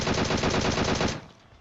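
A rapid, full-auto burst from an M4 rifle in PUBG Mobile, loud and close with evenly spaced shots for about a second before cutting off into a short decaying tail.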